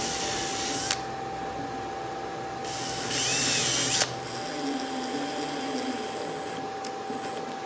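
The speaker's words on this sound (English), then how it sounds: "Just got to pre-drill some holes and" A power drill whirs in short bursts with a sharp click between runs, pre-drilling screw holes while hanging a door in a tiny house, set against a faint steady hum.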